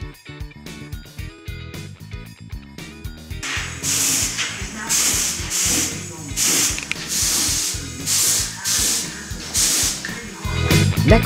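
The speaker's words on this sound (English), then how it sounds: "I'm just masking them up. getting ready to put some paint on." Short, repeated bursts of an aerosol spray can hiss as paint goes onto masked steel wheels of a Nissan Micra K11, the spray coming in pulses of about a second each after a few seconds of other noise.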